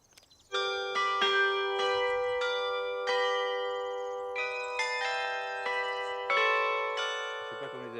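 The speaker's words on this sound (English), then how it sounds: "a rather special set of Angelus bells intended to impress his foreign visitors" A special set of Angelus bells at a wine chateau rings out a melodic tune, several bell strikes in sequence with long ringing overtones that overlap, steady and fairly loud, with no talk.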